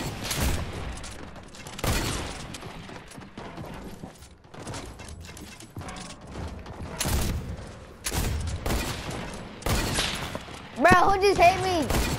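Several sharp flintlock gunshots crack out in a video game, spaced irregularly among other game sounds, with a player talking excitedly through most of it.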